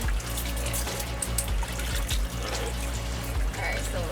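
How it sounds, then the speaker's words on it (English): A hand is rinsed in seawater before an underwater tour, making a steady, close splashing and trickling wash that runs without a break. "first you have to rinse your hand in the seawater"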